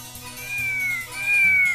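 A cat meows twice in a row as part of an ABC alphabet rhyme for children, with a faint tonal backing underneath and no talking.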